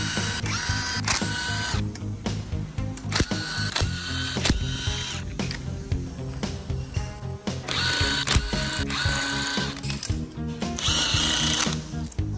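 Mechanics remove the oil pump chain from an Audi A7's EA837 engine, which runs rough. Dense metallic clicking, ratcheting and tool clatter fill the whole stretch at close range, with only faint voices.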